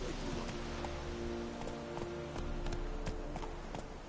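Hooves of Roach, Geralt's horse in The Witcher 3, clip-clop steadily in a fast gallop, close and continuous over a dense game soundscape with no voices.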